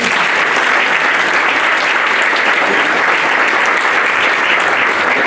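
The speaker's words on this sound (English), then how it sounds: "I think he needs a round of applause." Sustained, dense applause from an audience at a South African hip-hop awards event, loud and steady throughout with no break or talk over it.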